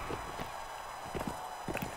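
Clip-clop of horse hooves in quick bursts of a few beats each, mid-distance over a steady synthetic background hum.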